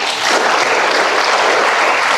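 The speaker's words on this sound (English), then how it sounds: "Let's just give a round of applause." Sustained audience applause at a graduation ceremony, dense and steady throughout, loud and close with no talking over it.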